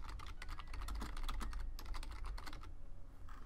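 Rapid typing on a computer keyboard, a steady run of close, crisp key clicks with brief pauses, heard alone.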